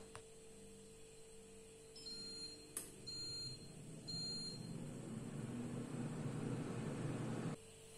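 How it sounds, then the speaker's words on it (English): A kitchen air fryer's timer gives a few short electronic beeps over a low appliance hum, followed by a steady whir of the fan that cuts off near the end. "Once the timer goes off, remove the baskets."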